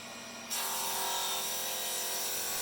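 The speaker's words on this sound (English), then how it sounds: "After rough processing, I sanded the strips for strength." Carpathian spruce strips being sanded for aircraft structure, a steady, close abrasive rubbing that starts abruptly and continues without pause.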